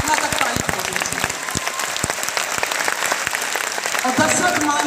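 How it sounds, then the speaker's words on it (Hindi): An audience in a hall in Patna breaks into hearty applause, a close, crackling run of many hands clapping with scattered sharp claps and some voices mixed in. "एक बार दशरथ माता की सम्मान में जोरदार ताली हो जाए"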